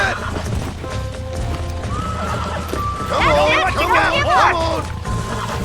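A horse in the Western video game Red Dead Redemption gives a loud, quavering whinny after a stretch of trotting hoofbeats, with in-game voices and music running underneath.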